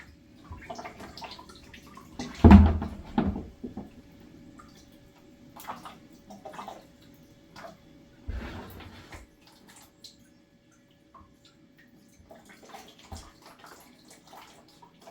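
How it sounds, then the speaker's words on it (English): Water spurts and trickles out of a whole-house cartridge water filter while its red pressure relief button is held down, coming in a few short splashy bursts with quiet drips and gaps between them, close by. "It's really important to keep pressing it until all the water is done coming out of it."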